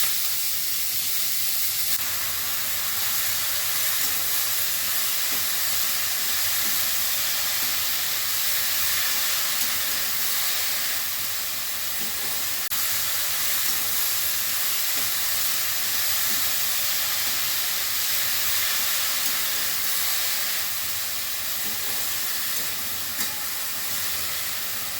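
Chopped spinach tossed into hot oil with dry red chilies, giving a long, steady hiss of sizzling that holds loud and unbroken from start to finish, with no voices.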